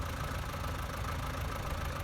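A tractor engine idles steadily in Farming Simulator 19, a continuous low rumble holding at an even, moderate level throughout with no voices over it.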